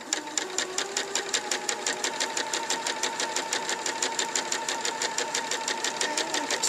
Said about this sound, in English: I'm going to sew 3 stitches backwards, 3 stitches forwards, just to reinforce the ends